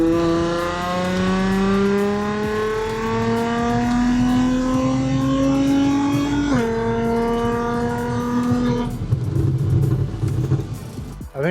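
Audi S4 fitted with a custom 3-inch valved exhaust pulling hard in fifth gear up a mountain highway, a loud steady engine drone rising in pitch for several seconds, then a brief dip and lift-off near the end.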